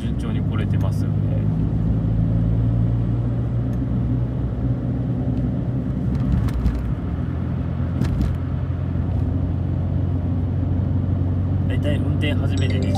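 Steady low engine drone and road rumble inside a Suzuki Alto Turbo RS on the move, a constant droning hum throughout with a brief voice and faint cabin sounds over it.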